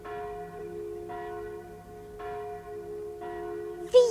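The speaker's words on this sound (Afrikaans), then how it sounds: "Luister, ons kan die klokke hoor." Church bells ring in a village, tolling in a slow, regular rhythm of about one stroke per second, clear and resonant with a lingering hum between strikes.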